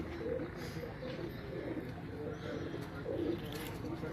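Sher Dil breed pigeons coo on a rooftop, soft repeated low coos over a constant hum of outdoor background noise.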